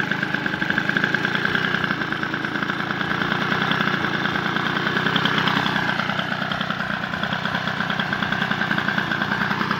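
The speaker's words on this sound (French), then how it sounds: "Bon, on dirait que le ralenti n'est pas assez haut." Peugeot 103 SPX moped engine idling too low, a steady close two-stroke putter with a slightly uneven, lumpy rhythm running continuously without talk.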